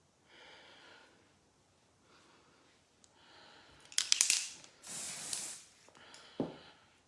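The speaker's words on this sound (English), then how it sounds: "And I'm using Velour, my spray foundation." Velour spray foundation hissing from an airbrush-style sprayer in several bursts, two long loud sprays mid-clip flanked by softer short puffs, close to the microphone with no talking.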